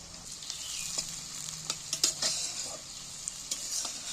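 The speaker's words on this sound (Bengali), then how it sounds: "কাজু কিশমিশগুলো দিয়ে দিচ্ছি এর মধ্যে" Cashews and raisins frying in a pan for fried rice, a soft steady sizzle with scattered light clicks and scrapes of stirring, fairly quiet and with no talking.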